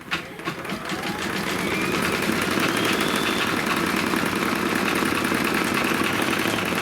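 An embroidery machine stitches a pumpkin design, a steady, loud mechanical whir with fast rhythmic needle clatter running continuously after a brief start, with no talking.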